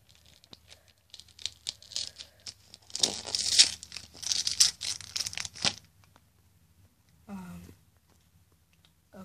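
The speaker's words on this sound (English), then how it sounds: "Let me just take off the tape." Packing tape ripped off a cardboard box in several close, loud tearing strips, with crinkling and rustling between pulls and a short faint sound near the end.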